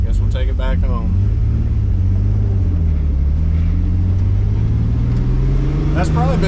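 Engine of a Nissan 300ZX (Z32) drift car struggles to idle, with a loud, low, uneven rumble whose pitch wavers throughout, heard close up with someone talking over it.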